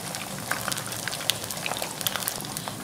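Fish pieces frying in hot oil in a pan for a fish curry, a steady close crackle and sizzle with scattered sharp pops throughout.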